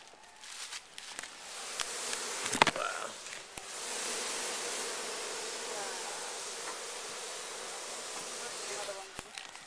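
A swarm of bees at a beekeeping site gives a steady, dense buzz that swells in after a few seconds and holds, with scattered sharper knocks and handling noises close by.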